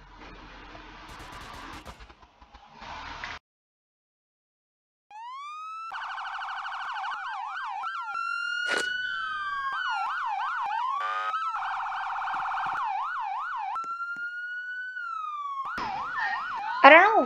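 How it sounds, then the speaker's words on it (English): Electronic emergency vehicle sirens in the Roblox game ERLC wail and yelp in shifting patterns, switching between tones, loud and continuous after a short silence, with a brief burst of other noise at the start. "I don't know why there's sirens."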